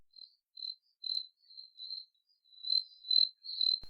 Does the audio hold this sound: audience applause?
no